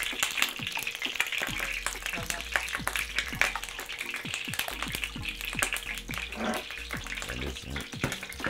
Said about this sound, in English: Just like you frying the Samoan flat pancakes.